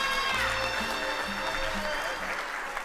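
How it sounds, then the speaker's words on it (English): Guests at Taylor and Ashton's wedding applaud the groom's grandfather. A sustained wash of applause fills the room, with music playing and voices underneath. "please, a round of applause for our grandfather of the groom"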